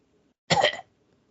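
A single short, harsh cough or throat-clear, loud and close, with faint background murmur before and after.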